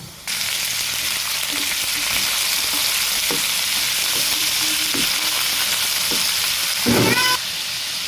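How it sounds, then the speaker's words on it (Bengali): Chopped garlic and onion frying in oil, a loud, dense, continuous sizzle with light utensil taps, and a brief sharper burst near the end as more ingredients hit the pan; nobody speaks. "রসুন কুচি, পেঁয়াজ কুচি। এটাকে আমি লাল লাল করে ভালো করে ভেজে নেব।"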